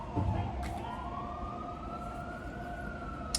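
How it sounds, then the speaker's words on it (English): A distant siren wails with a slowly rising, sustained tone over background traffic noise. "There's the sirens."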